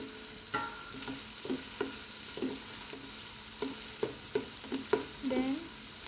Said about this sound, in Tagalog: haluin lang po muna natin hanggang sa masutay na po yung ating bawang, sibuyas at luya